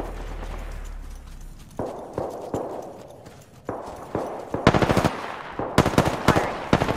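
Gunfire in a Mozambique video game match: several loud, close bursts of rapid shots with short pauses between them, getting louder toward the end.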